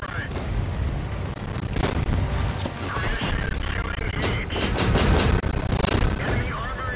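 Machine gun firing in the tank battle game World of Tanks: dense bursts of rapid gunfire and booming cannon blasts, loud and continuous over a rumbling battle background, with a voice talking over it.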